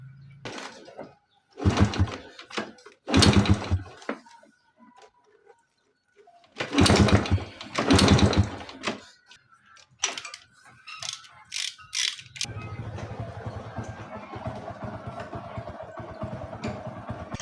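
A vehicle engine that won't start is cranked in several sharp, rattling bursts with pauses between them, followed by a steady, continuous mechanical rumble.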